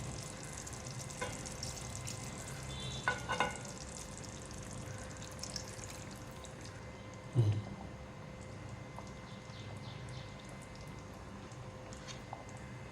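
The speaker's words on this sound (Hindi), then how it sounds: "क्वार्टर कप पानी डाल रही हूँ मैं।" Steady, close sizzling of kofta curry frying in a pan, with a short hiss and splash as a quarter cup of water hits the hot oil partway through.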